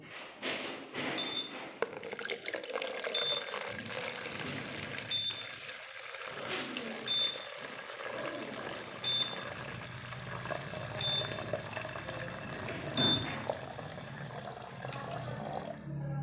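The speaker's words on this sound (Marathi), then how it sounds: "आता मी ह्याच्यामध्ये पाणी ओततो आहे." Water is poured into a small tank model used for transformer monitoring with a float sensor. A soft, steady trickle of liquid runs for a long stretch, quiet and close, as a faint electronic buzzer beeps at regular intervals.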